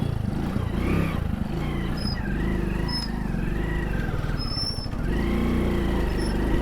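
A Hero Passion Pro 100cc motorcycle engine chugs up close with a rapid rhythmic putter, revving up near the end, while faint bird chirps sound in the background.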